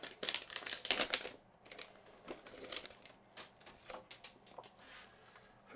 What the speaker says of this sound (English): Let's just peel this off.